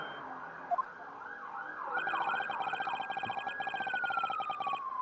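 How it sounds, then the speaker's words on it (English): Several emergency sirens whiz past outside a house, their wailing, sweeping tones rising in loudness and holding steady as they pass, after a brief quiet lead-in. "There's several sirens coming outside my house here, just whizzing by the house."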